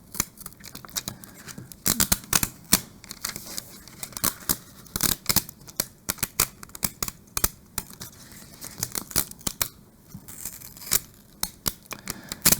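Cut vinyl being peeled away and torn while weeding a Cricut design for a custom wine bag, with close crackling rips and crinkles in irregular bursts throughout and no talking.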